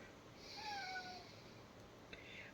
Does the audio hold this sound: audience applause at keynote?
no